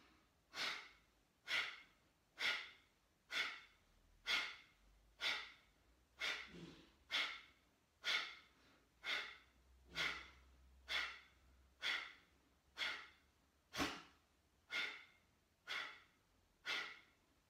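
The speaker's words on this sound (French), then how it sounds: "Inspirez profondément. Expirez complètement." Deep rhythmic breaths during a guided breathing exercise, about fifteen even breaths in steady succession, close and clear with no talking.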